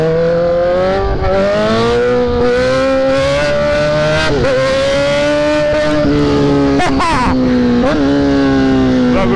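A car accelerating hard on an open road, the engine revving up through repeated gear changes, loud and close from inside the vehicle, each climb in pitch broken by a brief dip between shifts.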